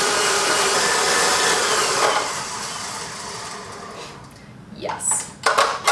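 Lemon curd being beaten into lemon buttercream in a bowl, with a loud, steady mechanical whir for about two seconds that slowly fades, followed by a few clinks against the bowl and some voice.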